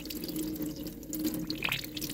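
Running water splashes steadily over plant leaves to rinse off mealybugs, a soft continuous trickle and patter heard close by with no talking.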